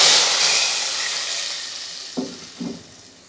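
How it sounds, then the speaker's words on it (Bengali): Spices and hot oil or ghee sizzle loudly as cooked lentil dal is tempered in a home kitchen, a steady hiss fading gradually, then two brief stirring scrapes near the end. "ডালটা আমি বাগার দিয়ে নিচ্ছি।"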